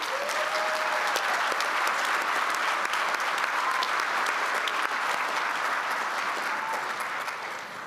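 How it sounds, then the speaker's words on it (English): Sustained audience applause fills a college commencement ceremony, a dense, steady wash of many hands clapping at even loudness for several seconds before easing slightly at the end. "Let's give this Blue Ridge team a round of applause"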